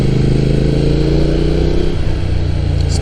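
A motorcycle engine drones with a loud, steady induction roar while riding along a mountain road in Japan, holding a sustained rumble with a slight dip in pitch near the end, close and without speech.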